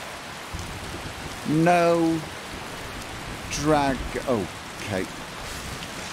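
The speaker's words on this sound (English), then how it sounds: "No dragon. Lots of rain." Steady rain falls in Skyrim Special Edition, a constant hiss of moderate loudness throughout, while a person talks briefly over it.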